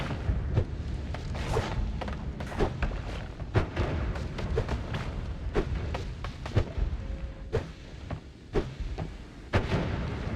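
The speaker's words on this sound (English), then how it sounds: "You have been cursed with bombs." Repeated booming blasts from a bomb curse in a video game, dozens of sharp thuds and explosions going off in an irregular, rapid series close by, loud and dense throughout with no talk over them.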